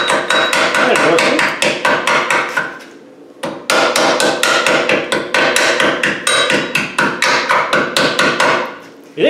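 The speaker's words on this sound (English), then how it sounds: "These welding hammers are dirt cheap." A cheap welding hammer taps rapidly against rusty rear brake parts, a fast run of sharp metallic knocks up close, loud and even, with one short pause before the tapping resumes.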